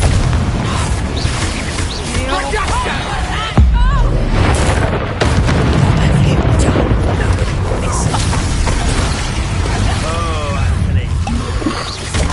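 Confringo explosive spell cast in the Hogwarts Legacy video game: a sharp boom near the start of the second third, set among a dense, steady bed of combat effects and music with talk running throughout.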